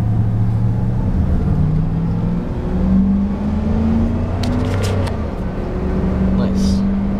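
A 2000 Dodge 2500 4x4 truck with a 5.9 diesel accelerates on an open road, its engine note rising steadily and droning close and loud, with a brief shift midway; someone talks over it at times.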